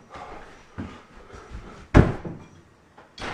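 A door swings open and shut, with soft rustling and creaks before a sharp, loud thud of it closing midway, then a final click-like knock near the end.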